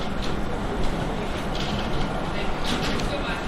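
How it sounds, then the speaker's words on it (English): A Washington DC area metro train rumbles into a station platform, a loud, continuous rolling roar with mechanical clatter and faint higher screeches building over a few seconds. "A train is approaching. Please stand back from the yellow line."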